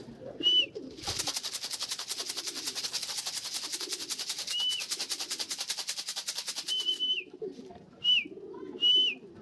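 A racing pigeon lands on a roof after a race, with soft low coos and a few sharp whistled chirps, while a long rhythmic rattling shake runs through the middle.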